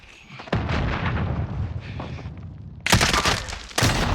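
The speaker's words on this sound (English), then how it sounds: "Mine went off, so it roughly knew where he was." A mine in Call of Duty: Warzone detonates with a loud, booming blast, followed by a rumbling tail and two more sharp bursts of gunfire near the end.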